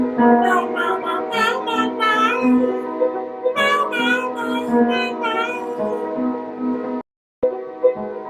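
A human voice imitates cat meows, repeating them in a quick sung rhythm for several seconds before a brief silence and a few more.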